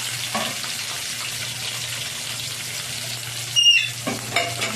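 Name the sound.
onions frying in oil with spices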